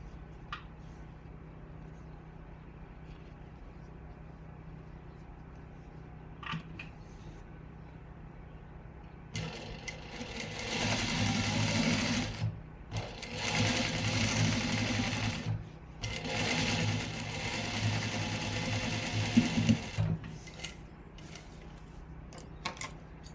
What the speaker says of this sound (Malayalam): ഈ എക്സ്ട്രാ ക്ലോത്തിൻ്റെ മുകളിൽ കൂടിയിട്ട് നമുക്ക് സ്റ്റിച്ച് ഇട്ട് കൊടുക്കാം